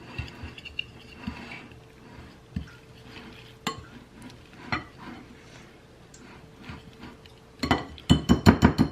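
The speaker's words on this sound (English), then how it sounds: "I'm just going to go ahead and pour in my melted butter, but I'm going to be whisking while I do it" Whisking cheesecake batter in a bowl while melted butter is poured in, heard as soft irregular scraping and light taps that build to a loud run of rapid clinks near the end, with no voices.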